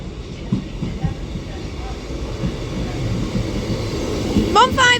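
A Class 158 diesel train rumbles into Salford Central station with rising clatter and a brief squeal of wheels at the end, while a station announcement plays over it.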